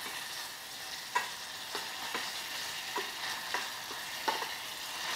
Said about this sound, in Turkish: Salçayı iyice kavuracağım.